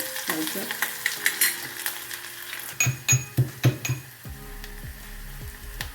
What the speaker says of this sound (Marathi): थोडं कांदा घालून घ्यायचं छान होऊ द्यायचा